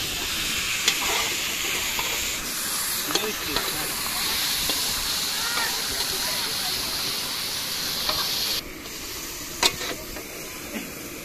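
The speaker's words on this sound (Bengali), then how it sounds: "আমরা মাংস ভাজি" Meat fries in a pan at an outdoor village picnic, giving a continuous loud sizzle and steamy hiss with occasional stirring scrapes, while people talk faintly in the background.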